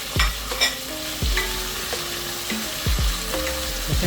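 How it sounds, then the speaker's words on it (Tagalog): Tomatoes sautéed with browned garlic in a pan, hissing and sizzling up close as a utensil repeatedly scrapes and stirs with clanking knocks. "igigisa natin na maayos yan hanggang sa lumambot siya"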